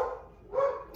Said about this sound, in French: Désolée pour les chiens.